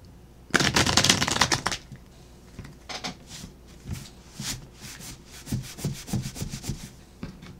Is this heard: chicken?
no